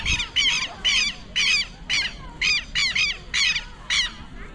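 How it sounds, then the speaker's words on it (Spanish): Southern lapwings (teros) call in a park in Uruguay, giving about nine loud, harsh, repeated bursts of screeching cries at a steady rhythm, close by and clear over quiet background. "esas aves que ustedes están viendo ahí son los teros"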